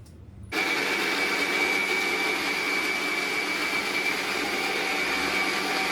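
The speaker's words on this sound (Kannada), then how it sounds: "ಈಗ ಇದನ್ನು ಮಿಕ್ಸಿಗೆ ಹಾಕೋಬೇಕು" A mixer grinder blending tomatoes whirs loudly and steadily after a brief quiet start, a dense motor roar with a high whine running to the end.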